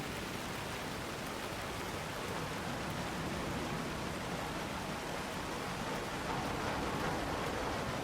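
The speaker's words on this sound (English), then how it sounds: "I think it's just rain on the dumpsters that I'm hearing." Steady, dense patter of rain drumming on metal dumpsters in a video game (Alan Wake 2), continuous and even throughout with no pauses.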